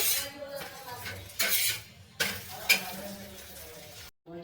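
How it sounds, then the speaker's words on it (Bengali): An egg paratha fries in a pan with a steady sizzle. Soft stirring and scraping scrapes and a few clinks of cookware break through, and a brief silent gap comes near the end. "দেখুন এইভাবে আমি সবগুলোকে ভেজে নেব"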